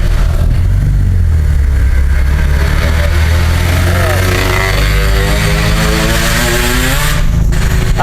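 Motorcycles with loud, noisy exhausts passing near Cisarua, Lembang, a continuous rumbling engine drone that rises and falls as the bikes go by, with people talking over it.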